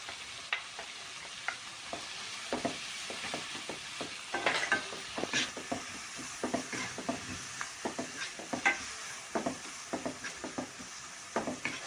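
Turmeric powder sautéing in a pan, a constant soft sizzle under a steady rhythm of close spoon scrapes and taps against the pan, repeating every half second or so with no voices.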